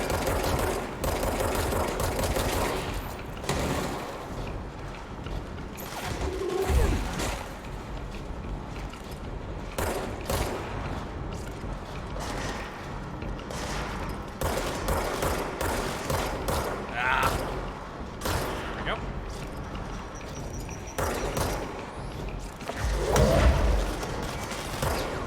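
Gunfire from enemies in the video game Control comes as repeated bursts and single shots that sound mechanical, with busy game noise throughout and some talk over it.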